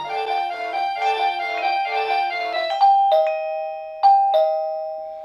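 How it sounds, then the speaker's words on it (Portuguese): An Arenti Wi-Fi video doorbell plays a bright, tinkling electronic melody, then settles into a two-tone ding-dong chime that rings twice and fades, clear and close. "o som da videocampainha sempre vai ser o mesmo"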